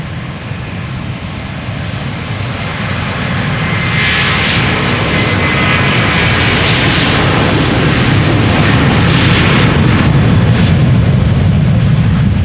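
A Delta Airlines Airbus A330 departs Amsterdam Schiphol with a loud, rising jet engine roar that builds to full takeoff power and holds steady, close by and without voices.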